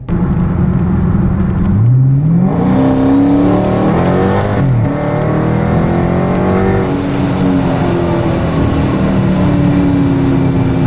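A Procharger-supercharged Scat Pack car engine revs up and down several times, the pitch climbing and falling in sweeps over a continuous loud mechanical drone, at times with a grindy sound, with no talking.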